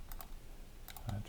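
Several light, close computer keyboard key presses, including a spacebar tap, come as a couple of quick pairs of soft clicks during CAD work on a laser-cut shelf.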